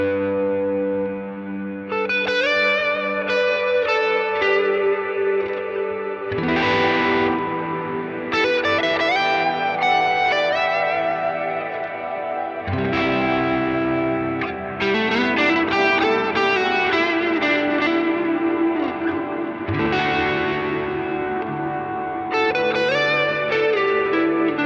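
Overdriven electric guitar through an HX Stomp Searchlights reverb set to mimic a freeze effect, high notes hanging in a sustained shimmering drone while new distorted chords and lines ring over it, loud and continuous with no talking.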